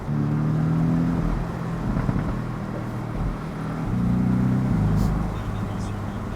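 A Porsche 718 Boxster S convertible with a PDK gearbox accelerating, its engine note rising and falling through quick gear changes under steady wind and road noise, heard from inside the open car with someone talking.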